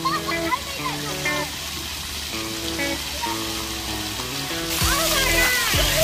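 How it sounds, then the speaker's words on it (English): Water sprays and splashes at a children's water park spray ground, a constant hissing patter with sloshing bursts, while children shout and adults chatter nearby. "Your first time at the water park, Nas."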